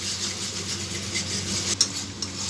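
Ground spices such as cumin powder and garam masala being stirred and sautéed in a pan for a stuffed pointed gourd dish, a faint continuous scraping and sizzling hiss with a couple of light utensil knocks.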